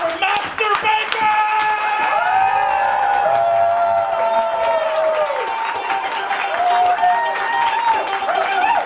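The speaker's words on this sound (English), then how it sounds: "Make some noise for Master Baker!" A live audience claps and cheers for a performer at a class show, a steady wash of applause with whoops, while tonal music or voices ring over the top throughout.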